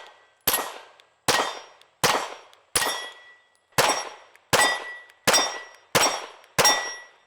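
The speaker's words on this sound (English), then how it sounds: "we're gonna be shooting 5 rounds on the HC320XL with the Mantis here, shooting 124 grain" A P320 HC320XL pistol with a Mantis compensator fires 124 grain rounds, giving nine loud, sharp reports at a steady pace, each with a short ringing decay.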